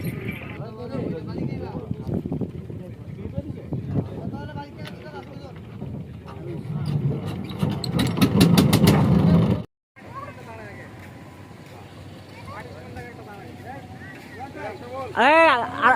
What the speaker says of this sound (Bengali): তাই একটা ট্রলার নিলাম তো আমরা এখন সবাই ট্রলারের মধ্যে আছি